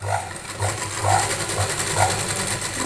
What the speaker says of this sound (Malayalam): ഇങ്ങനെ ഒന്ന് തയ്ച്ചു കൊടുക്കാം.